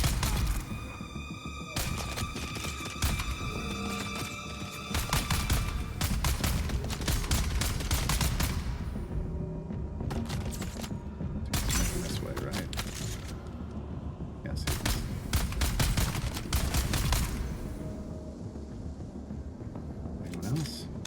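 Bursts of rapid gunfire from the survival game Dune: Awakening, loud and sharp in repeated clusters, with people talking over much of the action.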